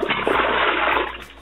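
A manual well-drilling bit sloshes and splashes in water inside a hand-dug borehole, giving a short, close, continuous watery churning.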